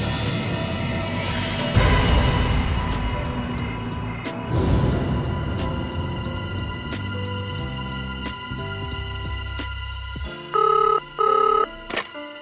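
A telephone rings near and loud in a tense crime-drama scene: two short bursts of a bell ring near the end, following a stretch of dramatic music and rustling.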